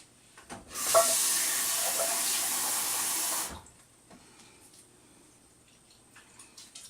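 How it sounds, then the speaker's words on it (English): Water pours into a pot of thick simmering homemade chili for about three seconds as a loud steady rush, then drops away to faint kitchen background. "let me try a little water and see if that works"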